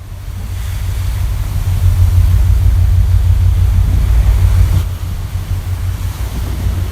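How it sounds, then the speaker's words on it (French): Five-metre waves crashing onto rocks at the end of a beach during cyclone Leslie, a loud, continuous low roar of surf with heavy wind rumble, steady throughout with no voices. "Nous allons contempler le spectacle fascinant des vagues de 5 mètres qui s'écrasent sur les rochers au bout de la plage."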